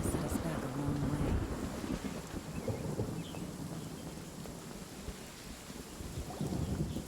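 Steady rain with wind in the Genshin Impact game world, a dense continuous wash of noise with low rumbling that stays fairly even throughout, with no clear voices over it.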